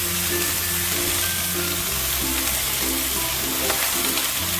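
Cabbage and cauliflower stalks fry on high flame with a loud, continuous sizzle, a low hum running underneath.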